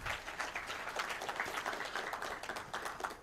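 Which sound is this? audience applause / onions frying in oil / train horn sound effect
audience applause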